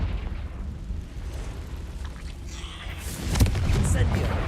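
A Confringo fire spell explodes in a cave in Hogwarts Legacy, a sharp burst near the end that flares over a steady rumbling game background and then leaves a sustained crackling roar.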